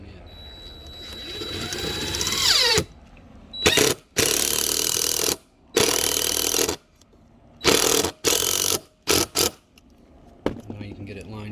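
A drill drives a screw into a wooden wheel crib, with a rising whine and then several short, loud bursts of buzzing motor and ratcheting grind separated by pauses, close up.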